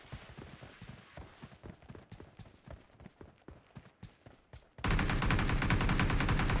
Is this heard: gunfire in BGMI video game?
yes